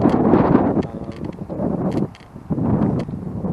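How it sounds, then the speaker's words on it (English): Wind buffets a camera microphone outdoors, with loud rumbling gusts that surge and briefly ease before returning, and no talking. "A ton of wind, so it's interesting to see what happens with the wind."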